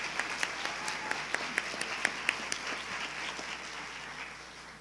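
Audience applause at a National History Day awards ceremony, a soft, slightly distant wash of clapping with a few sharper claps, fading toward the end.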